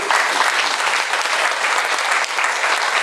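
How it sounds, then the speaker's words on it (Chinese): Audience applause for an association chairman at a formal event, a dense, steady wash of clapping from a crowd that carries on loudly throughout without a break. "我想大家真的应该再给周理事长再热烈的掌声。"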